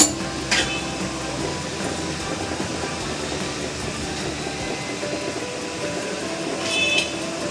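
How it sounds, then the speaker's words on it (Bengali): A metal lid is lifted off a steamer pot of stuffed semolina idli, giving brief metallic clinks at the start and end over a steady, broad hiss of steam. "5 মিনিট হয়ে গেছে, আমি এবার ঢাকনাটা খুলে দিলাম।"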